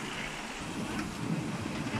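Heavy rain pours down onto a balcony in a steady, dense wash of noise with no let-up, fairly loud and close throughout.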